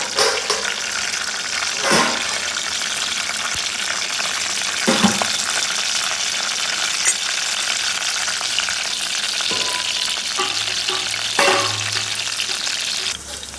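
Whole garam masala, curry leaves and chilli frying in hot oil for a spicy chicken dish, a sustained close crackling sizzle with a few sharp pops and stirring knocks spread across the span.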